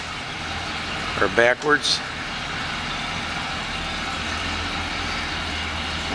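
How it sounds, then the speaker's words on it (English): A 1955 Packard 400 two-door hardtop V8 idles steadily in the background with a low, even hum while someone speaks briefly near the start. "Engine sounds great."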